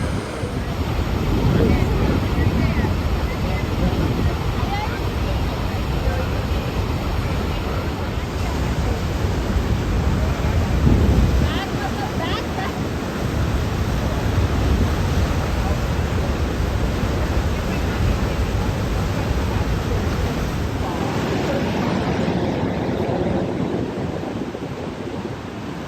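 A waterfall seen while van camping roars steadily as a broad, constant wash of rushing water, loud and close, with no break across the whole stretch.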